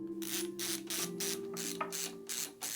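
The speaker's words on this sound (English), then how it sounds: "Removing all of these screws from both sides of the chassis will allow us to slide the tray out from the chassis with ease." A screwdriver undoes screws on both sides of a Sliger CX3702 computer chassis with quick rhythmic ratcheting clicks in several short bursts. The sound is close and quiet, with a faint steady hum under it.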